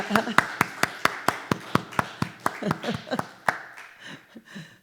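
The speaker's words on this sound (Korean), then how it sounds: "우리 모두 박수로 환영합니다." Church congregation applauding together during a Sunday service, a run of sharp, evenly spaced claps that loosens into scattered, fading clapping, with a voice speaking faintly underneath.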